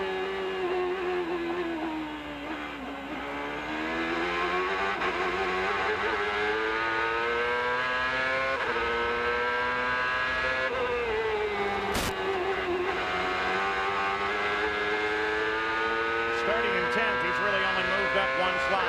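A CART Indy race car at Mid-Ohio heard onboard with Juan Montoya in 2000: a high, loud engine whine that rises and falls through shifts and corners, continuous throughout, with a commentator talking over it.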